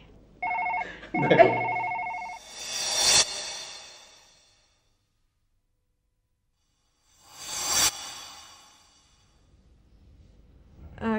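A phone rings once in a short electronic burst, followed by two loud hissing bursts separated by quiet gaps.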